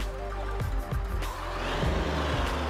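A DAF Crawler truck in Euro Truck Simulator 2 running with custom engine sounds, a loud continuous engine drone with rising and falling revs and tire-like squeals throughout, no talking over it.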